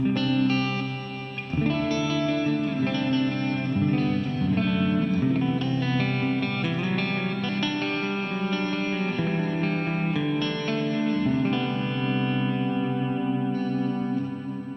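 An electric guitar plays sustained chords through a TC Electronic Hall of Fame 2 reverb pedal with ducking, drenched in washy reverb, the ambience swelling and pulling back as the notes ring, without any voices.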